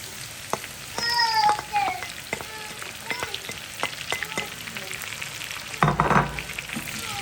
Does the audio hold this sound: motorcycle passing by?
no